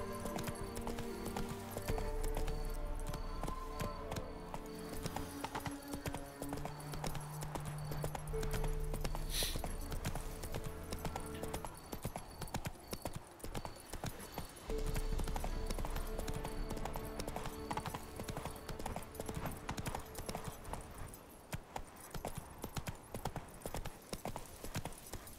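The horse Roach gallops in The Witcher 3 video game, a steady, continuous drum of hoofbeats held for the whole stretch under a layered orchestral score, with no talking.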